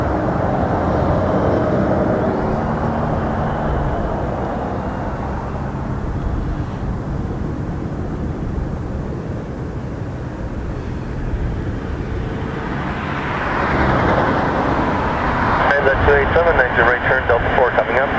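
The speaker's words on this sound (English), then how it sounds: "Oh, they're landing a Dash 8" A Dash 8 turboprop lands on a runway at Toronto Pearson Airport, its steady engine roar filling the scene at a fairly loud level and swelling toward the end, with a voice talking over it.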